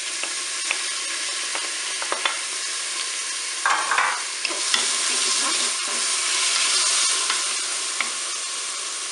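Onions and peppers sizzle loudly in a Cookeo multicooker, a dense, steady frying hiss broken by the clicks and scrapes of stirring, with a brief burst of sharper crackle partway through.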